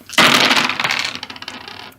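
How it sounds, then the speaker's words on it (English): Dice are shaken and tossed onto a hard surface, a sudden loud clatter that settles into a quick series of fading rattles and clicks, close and alone. "So, final shake of the dice."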